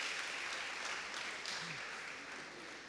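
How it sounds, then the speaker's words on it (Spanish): Applause from a church congregation, a dense steady wash of clapping filling the room at an even level for the whole stretch, with no talking over it. "¿Alguien puede dar un aplauso al Señor por eso?"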